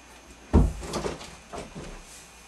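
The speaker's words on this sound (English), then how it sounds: "I didn't leave that door open." A door opens with a sharp wooden knock followed by a creaky swing and softer bumps, a brief close sound in a quiet room.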